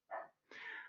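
A dog lets out two close barks indoors, the second a longer, higher yelp, sounding fairly near in an otherwise quiet room.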